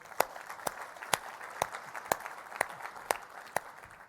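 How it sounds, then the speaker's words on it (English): A room of people at a cyber workforce talk claps for the educators present, heard as sparse, evenly spaced sharp claps about twice a second over a quiet background. "I want to give you a round of applause"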